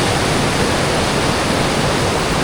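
Steady, dense roar of Lipit Secret Falls, a waterfall on a rainforest trail in Pangasinan, heard close and loud without a break.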